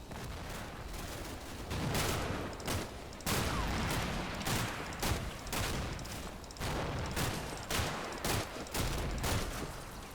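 An M240 machine gun team opens up in a snowy Combat Mission battle, loud bursts of automatic fire punctuated by sharp repeated cracks, coming in irregular volleys with brief gaps between them.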